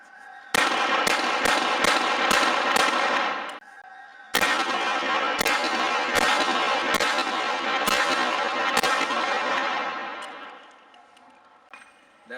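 Beretta 92FS pistol firing, two quick volleys of sharp loud shots in fairly even rhythm with a brief pause between groups, each crack ringing out with a short decay.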